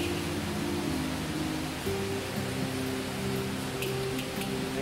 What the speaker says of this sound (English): Strain the cooked mackerel